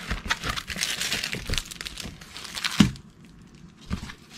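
Plastic packaging around a 30 by 40 diamond painting canvas crinkles and rustles continuously for several seconds, then drops to a few softer handling noises and a brief crackle near the end, with no talking.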